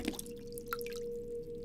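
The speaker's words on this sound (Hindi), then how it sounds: "तभी मुझे पानी में किसी चीज के गिरने की आवाज आई।" Something dropping into water some distance away: a couple of faint, soft plops and drips over a steady low hum in otherwise quiet surroundings.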